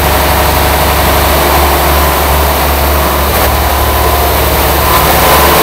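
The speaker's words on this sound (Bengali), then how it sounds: "এগুলো হচ্ছে লঞ্চের ইঞ্জিন রুম, এখানে সাধারণত ইঞ্জিন থাকে।" A heavy passenger ferry engine drones steadily at close range in the engine room, a loud low rumble with a constant mechanical hum and no voices.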